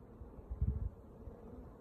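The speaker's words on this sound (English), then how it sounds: "Lots of bees." Honey bees crowd an opened hive during a varroa shook-swarm inspection, their soft low buzzing a steady, faint drone that swells briefly, with no voices over it.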